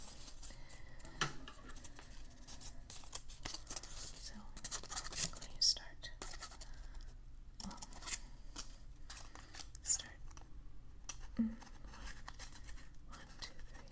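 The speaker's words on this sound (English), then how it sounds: "So I'm just going to start cutting around." Scissors snip steadily through a paper Möbius strip in close, quiet strokes, with soft whispering heard alongside the cutting.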